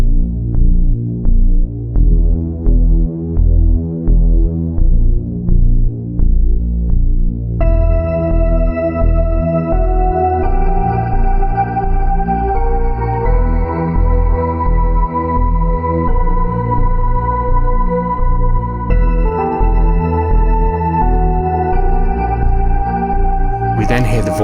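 Slow-paced video game intro music, a cover of the Perfect Dark theme, plays loud and continuous with a throbbing low pulse, sustained synth tones joining partway through.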